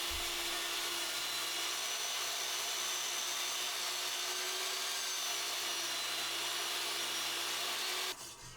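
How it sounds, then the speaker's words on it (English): A table saw whines steadily and loudly while cedar pieces are pushed through it on a sled, a continuous high motor drone with cutting noise that drops off abruptly near the end. "I'm going to run them through the table saw again on the sled just to make quarters"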